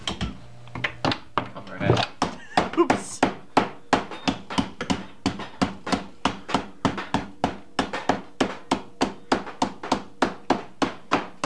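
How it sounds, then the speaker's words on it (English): Hammers striking a VCR, a long run of sharp, regular knocking blows at a steady fast rhythm, loud and close, continuing for several seconds. "you're hammering it, so I was hammering it"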